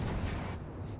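A warship's main gun salvo in World of Warships from the German battleship G. Kurfürst, a single loud, broad booming blast that rumbles and fades over about a second, with no voices.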